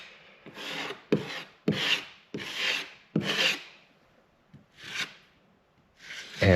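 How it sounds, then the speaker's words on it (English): A putty knife held flat scrapes filler across a rough plywood wall in about seven rasping strokes. Each stroke is a distinct, close swipe separated by short pauses. "scrape this with the knife flat on the wall"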